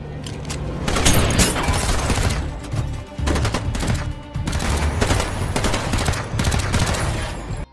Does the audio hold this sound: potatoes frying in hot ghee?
no